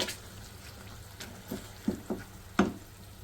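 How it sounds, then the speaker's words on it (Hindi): A spoon quietly stirs an onion and tomato mixture in a pan, with a handful of soft scrapes and taps spaced irregularly over a faint low sizzle. "ये सारी चीज़ों को मैं अच्छे तरीके से मिक्स करती हूँ पहले"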